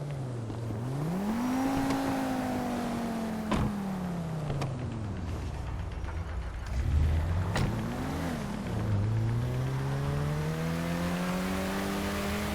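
In GTA 5, a car engine drones and revs steadily throughout, its pitch rising and falling as the car accelerates and shifts, with a few sharp clicks and bumps along the way.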